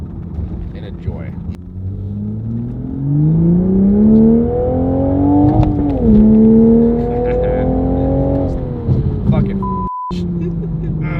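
A manual Mk5 Toyota Supra engine pulls through the gears while driving, its tone climbing steadily, dipping at a shift and rising again as a loud, close drone, with brief speech over it.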